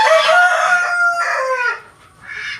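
A Brahma rooster crowing nearby, a loud, drawn-out, harmonic call followed by a second shorter crow and a trailing cluck, with no talking.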